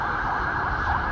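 A police car siren wails loud and steady in a Warsaw street, a continuous wavering tone heard alone.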